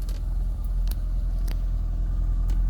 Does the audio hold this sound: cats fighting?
no